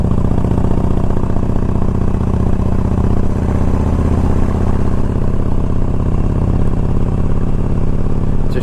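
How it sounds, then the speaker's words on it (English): A 2007 Harley-Davidson FLHT with a six-speed gearbox rumbles steadily while being ridden on an autumn road, a loud, close, even engine drone with faint mechanical clatter and no voices over it. "Just showing you guys how good this bike runs."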